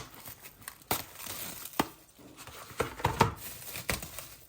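Soft chapati dough being cut by hand on a kitchen surface, a few short, scattered cuts and soft tearing knocks at close range, with no one talking.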